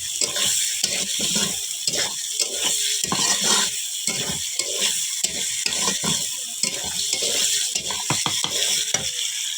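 Chicken and onions stir-fried in oil for a chicken biryani, with a steady sizzle and repeated scraping and stirring strokes of a spatula against the pan, close and continuous with no talk.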